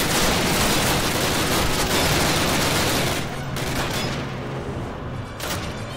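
Dense bursts of automatic gunfire from the 2003 video game Call of Duty, a loud, continuous, rapid fusillade that thins into a few scattered shots near the end, with no speech.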